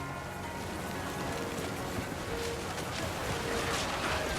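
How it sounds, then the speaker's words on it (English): Heavy rain pours in the What Remains of Edith Finch video game, a steady broadband hiss of drops drumming on surfaces throughout, constant and fairly loud with no voices. "The rain came down in buckets then"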